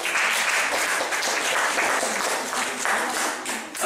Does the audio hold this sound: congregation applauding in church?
yes